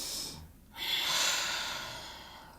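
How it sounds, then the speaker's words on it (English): One slow, deliberate breath close to the mic: a breathy exhale, a short pause, then a long, deep airy inhale that gradually fades. "Breathing in and letting it out"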